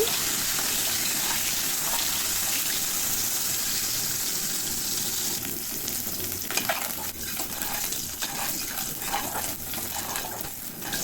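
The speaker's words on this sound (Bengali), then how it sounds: "এখন আমি এই ডিমগুলো ভেজে নিব আমি ডিমগুলো খুব ভালো করে ভেজে নিচ্ছি" Boiled eggs fry in hot oil in a pan with a steady, loud sizzle throughout, and stirring and scraping sounds join in over the second half.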